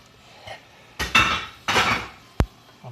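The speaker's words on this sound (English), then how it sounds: "This is a wok frying pan type of thing. So we'll put that on there." A metal wok set down on a stove top, heard as two clattering bursts of metal contact followed by a sharp clank and a light knock, close and fairly loud with quiet gaps between.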